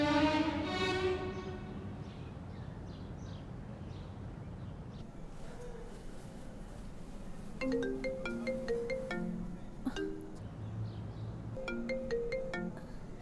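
A phone ringtone in a Hindi-dubbed action romance film plays a repeating bright melodic tune against quiet background sound.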